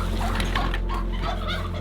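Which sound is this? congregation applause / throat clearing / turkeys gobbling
turkeys gobbling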